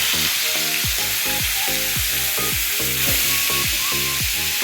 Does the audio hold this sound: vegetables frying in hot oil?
yes